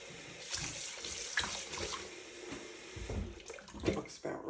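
Tap water running into a pot of potatoes in a kitchen, filling it to just above the potatoes; a steady close rush with slight splashing that shifts in pitch and level as the pot fills.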